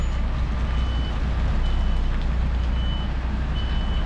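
A delivery truck's reversing alarm beeps in an evenly spaced series of short tones over a loud, steady low engine rumble, with no talking.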